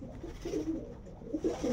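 A male pigeon coos close by in a loft, low throaty warbling calls repeating in short rolling bursts over a quiet background.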